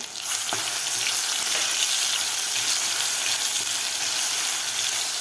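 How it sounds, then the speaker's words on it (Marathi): Crushed garlic cloves frying in hot oil with cumin and mustard seeds, a loud, steady, close sizzle that holds constant throughout with no voices. "लसूणसुद्धा आपल्याला व्यवस्थित फ्राय करून घ्यायचं आहे"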